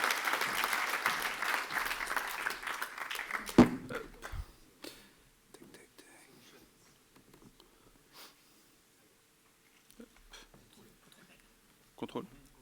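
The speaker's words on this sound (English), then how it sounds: "please a thunder of applause for the beautiful write-up" An audience at a tech conference applauds a presenter, a loud wash of clapping that stops after about four seconds, followed by quiet room noise, shuffling and someone speaking.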